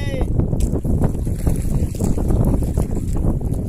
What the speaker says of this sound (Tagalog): Kaya lang mahangin!